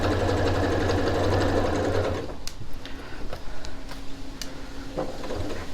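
A sewing machine stitches a fabric tote bag with a close, steady motor whir for about two seconds, then stops and leaves quieter background noise with faint scattered clicks.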